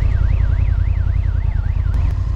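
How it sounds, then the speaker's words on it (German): A strange, continuous wailing siren rises and falls in a steady rhythmic sweep, heard on a motorcycle trip through Albania, sitting over loud low engine or road rumble without speech. "Plötzlich hören wir eine seltsame Sirene."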